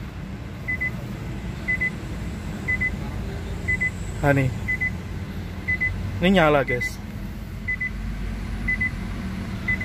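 An electric car powering up, giving off a sequence of synthetic electronic chirps and rising warbling tones over a steady hum, with short regular beeps repeating throughout while a person talks close by.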